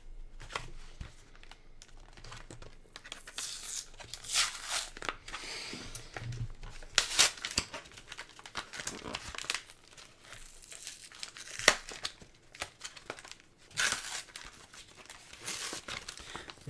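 Pokémon Destined Rivals card packs crinkle and tear open in close, repeated bursts of foil crumpling and ripping, with quiet pauses between them.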